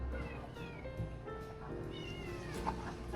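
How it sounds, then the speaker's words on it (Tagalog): A cat meows several times in a cluttered, noisy room, with background chatter and household sounds. "Naku yung pusa."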